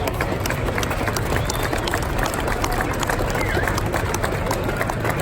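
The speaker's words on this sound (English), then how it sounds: "just give them a round of applause for this car." A crowd at the SEMA 2019 car show claps for a showcased car, the applause mixed into loud, dense hall noise and chatter, with voices talking over it throughout.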